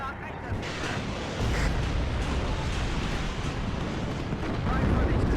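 Heavy artillery barrages in the WARNO real-time strategy game, a continuous dense rumble of booming blasts that swells louder partway through, with a voice speaking over it.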